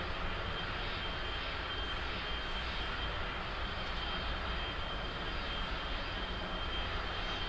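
A jet airliner's engines hold a steady, loud, unbroken roar on a slow ILS approach in a flight simulator, with nothing else heard.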